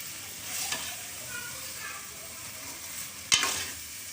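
Green peas chutney with fresh coriander sizzles softly in a pan while a spoon stirs, with a couple of sharper scrape clicks over a constant frying hiss.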